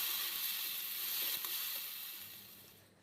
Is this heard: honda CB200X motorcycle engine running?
no